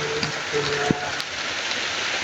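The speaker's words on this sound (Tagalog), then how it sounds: "Lakas ng ulan." Heavy rain pouring steadily as a dense, close wash of noise, with a faint voice briefly audible underneath.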